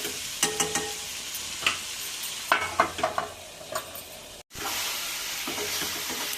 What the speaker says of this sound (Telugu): మధ్యలో ఒకసారి ఇలా కలుపుకున్నామండి లేకపోతే అడుగుంట తప్పదు